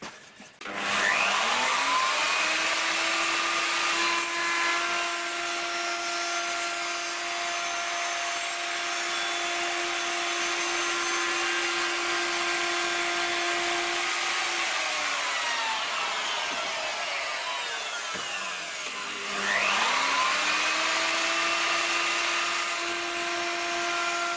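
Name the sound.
power tool cutting a 45-degree chamfer along wooden table edge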